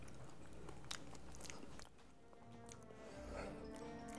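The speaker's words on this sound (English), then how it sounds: "You hear the crunch?" A bite into a sweet potato pavé topped with bacon crumble gives a few close, crisp crunches followed by soft chewing, quiet and up close with no talking over it.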